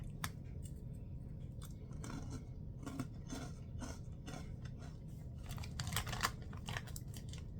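Crunchy Flamin' Hot Cheetos being bitten and chewed close up, with a steady run of dry, brittle crunches and no talking.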